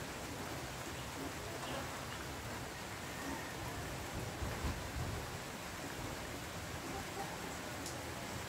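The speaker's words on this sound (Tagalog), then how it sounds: "May bagyo daw ngayon." Steady, broadband rain hiss from a typhoon in a provincial area during a power outage runs evenly throughout, fairly faint, with no distinct thunder.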